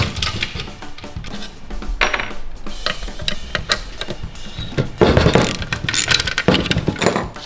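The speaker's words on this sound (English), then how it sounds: "Step number one with the old original one is we gotta remove the throttle body. There's just 4 bolts." Ratchet unbolting the four throttle body bolts on a heavily worn BMW M5 being built toward 750 horsepower, giving dense metallic clicking and clattering of tools and parts close up in a busy garage, with no talk.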